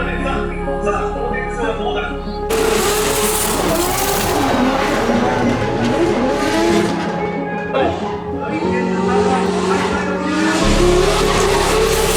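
Drift cars skid and roar at a D1GP event at Tsukuba, Japan, with loud tire squeal, revving engines and crowd noise layered in a continuous dense wash, with voices heard in the mix.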